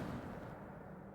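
The Incendio fire spell in Hogwarts Legacy lets out a single loud, deep roaring burst that rumbles and slowly fades over about a second.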